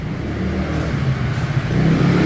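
Car fitted with an NK Racing valvetronic exhaust system revving, a loud, close engine note rising and building over a couple of seconds with no voices.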